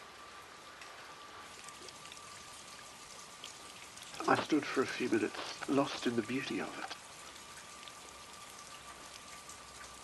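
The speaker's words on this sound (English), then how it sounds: "This evening, I came out the front door of the house and it was raining." Rain falling outside the front door of a house in the evening, a steady soft patter in the background while someone speaks in the middle section.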